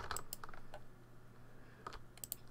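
Faint computer keyboard typing and mouse clicks come in a few quick, scattered taps with quiet gaps between them, close by and soft against a low background hum.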